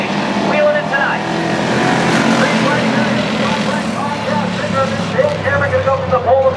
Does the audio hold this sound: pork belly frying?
no